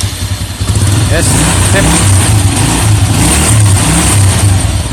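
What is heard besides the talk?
motorcycle engine starting with double starter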